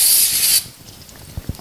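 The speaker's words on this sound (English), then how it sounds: "I'll give them just the pad surface as a clean down. Just with some brake cleaner." Brake cleaner sprays from an aerosol can onto brake pad surfaces of a Subaru Sambar, a close, loud hissing burst lasting about half a second, followed by a few faint clicks and knocks.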